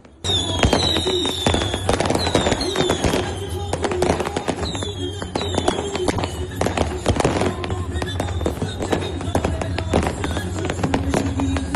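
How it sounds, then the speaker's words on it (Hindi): Fireworks and firecrackers crackle and burst nonstop at an Iranian revolution anniversary celebration, dense rapid pops over a steady roar, with faint whistles rising in places. "पटाखों की आवाज आपको नजर आएगी"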